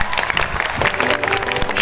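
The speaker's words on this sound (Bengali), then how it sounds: "তুলে দেব জোরে হাততালি একবার।" An audience at a cultural anniversary program in Krishnanagar's Rabindra Bhavan applauds loudly, a thick, continuous burst of many hands clapping at close range without pause.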